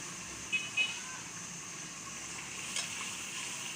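Masala for beef karahi fries with green chillies in a steady, low sizzle. A few faint clinks from stirring sound near the start.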